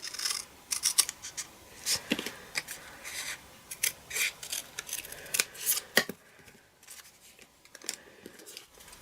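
Scissors snip through shaded spruce fabric for a quilt block, producing soft, close, irregular crisp cuts and rustles spread over several seconds, with no talking.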